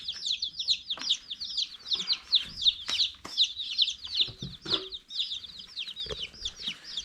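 A crowd of young chicks under a brooder heater peeps and chirps constantly in high, overlapping calls, close by, with faint soft shuffling underneath.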